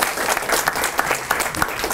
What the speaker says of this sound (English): round of applause for coming and taking the time to join us